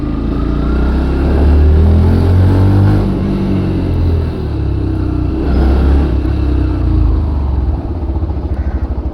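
A Yamaha FZ-S v4 hybrid motorcycle rides along with a loud, close engine rumble that rises and eases with throttle, plus wind buffeting, while no one speaks.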